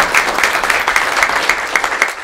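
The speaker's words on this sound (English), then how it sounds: "Give her a round of applause." Brief burst of audience applause at a panel event on women's leadership in sports, a steady mass of clapping from a room of people.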